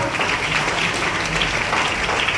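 A meeting audience claps enthusiastically for a toothpaste product, a continuous dense roar of hands at moderate level with no talk over it.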